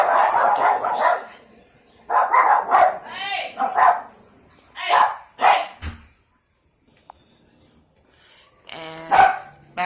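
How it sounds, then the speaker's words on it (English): Pet dogs inside a home bark in loud bursts, several sharp yaps and woofs in quick clusters with brief whimpers and pauses between, close by and dominant. "Sorry about my dogs."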